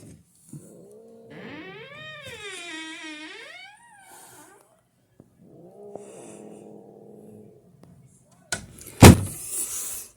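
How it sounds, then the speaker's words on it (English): An indoor door shuts with a single loud, sharp thud near the end, after a stretch of cat meowing and quiet room sounds. "Just let me close the door, Pitten, okay?"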